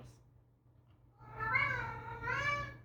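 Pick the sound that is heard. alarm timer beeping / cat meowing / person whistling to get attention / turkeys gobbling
cat meowing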